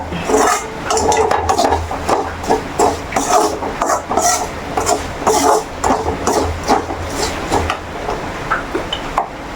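Rhythmic scraping and clinking of a spoon stirring pickle masala in a pan, loud and close, with a steady repeated beat of strokes and no talking.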